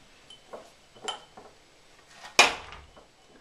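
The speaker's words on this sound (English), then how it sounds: "you can start transferring them into an empty jam jar" A few light clinks and taps of glass, ending in one sharper knock against a jar, with quiet rustling between.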